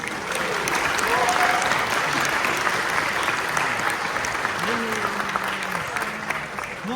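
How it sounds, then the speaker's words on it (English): Concert audience at a school music program applauds teachers, a sustained full round of clapping with voices and cheers mixed in, loud and continuous throughout. "Can we give them a round of applause?"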